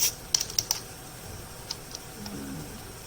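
A few quick keystrokes on a computer keyboard while writing HTML code, clustered near the start and then sparse, quiet and close with a faint background hum.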